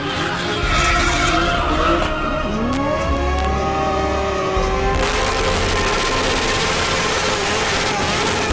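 Loud, continuous tire squeal and skidding from cars and motorcycles doing stunts during a cremation procession, wavering screeches over engine roar, with a noisy crowd-like wash taking over midway.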